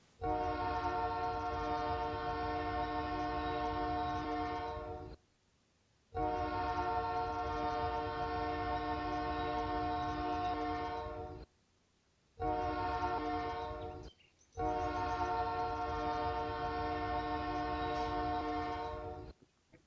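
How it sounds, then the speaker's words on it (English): K3L train horn in a train simulator game, a rich multi-tone chord sounded in four long blasts, the first two about five seconds each, then a short blast and a final long one, loud and close. "Definitely my favorite horn that I have in this game."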